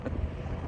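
Wind buffeting a microphone outdoors, a brief dense low-frequency rumble and roar that fills the whole short moment, loud and close, with no voices.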